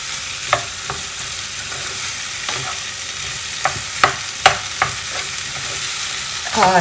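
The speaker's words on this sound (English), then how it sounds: "give it a good stir. And now we just continue to cook on high heat without closing it." Okra and tomatoes sizzle on high heat in an open pan for an Anglo-Indian lady finger curry, a constant frying hiss with irregular sharp scrapes and knocks from stirring, close up with no speech.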